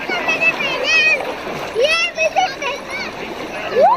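Splashing from people bathing in the cold, fast-flowing river at Triveni Ghat in Rishikesh, broken bursts of water churn close by, with voices talking and calling over it throughout.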